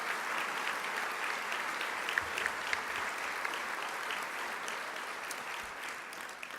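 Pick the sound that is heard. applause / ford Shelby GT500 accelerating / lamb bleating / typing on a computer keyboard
applause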